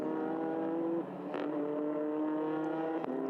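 A pack of TCR touring cars from the European series thunders past at Spa, engines roaring close and steady with gear changes and a second car sweeping by near the end.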